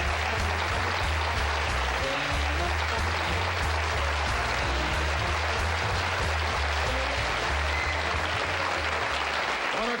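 Studio audience on a 1974 Tonight Show applauds in a continuous roar welcoming comedian Rodney Dangerfield, dense clapping sustained at full strength throughout with a low rumble underneath.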